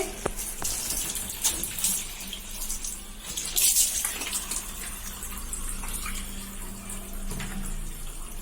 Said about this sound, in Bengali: এবারে মটকাটা ভরে নেব। মটকাটা ভরে নিচ্ছি।